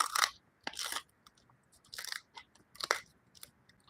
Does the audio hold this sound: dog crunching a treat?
yes